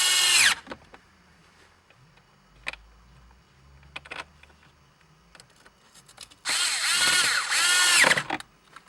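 A power driver runs in T20 Torx screws during a traction control button install in a VW Beetle, giving a loud whirring burst at the start and a longer, louder two-part run near the end, with soft clicks and handling noise between.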